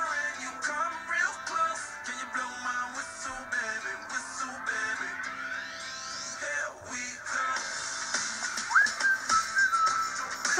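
A whistled melody rides over a busy, full music track, weaving in and out of the instruments throughout.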